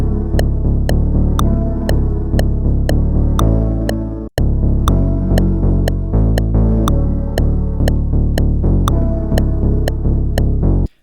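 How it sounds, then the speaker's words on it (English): Deep bass notes in a lofi house track are cut into short, evenly spaced rhythmic chunks, loud and continuous with a brief gap in the middle. "Now I'm going to chop the bass notes up to give it a rhythm."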